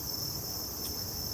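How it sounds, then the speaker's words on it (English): Cicadas on a Tokyo evening along the Tamagawa river and nearby residential streets, a steady high-pitched drone held throughout at a low background level, with no voices. "Cicada sounds in the background"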